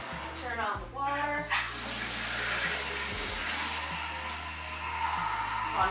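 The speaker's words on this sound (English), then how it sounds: "turn on the water," A shower runs at full hot in a bathroom to steam a hanging ballet tutu, giving a steady, close rush of falling water that follows a brief splash as it starts.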